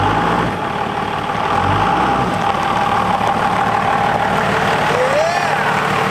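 Cummins diesel engine in a 6-speed truck idling low around 650 RPM, a loud constant rumble up close with a person talking over it.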